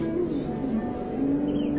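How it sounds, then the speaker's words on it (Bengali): Soft cooing and thin chirps of birds calling along a hill-lined river route to Belaichari, Bangladesh, a few overlapping calls drifting over a low steady background hum. "আর বাতাসে ভেসে আসা পাখির ডাক"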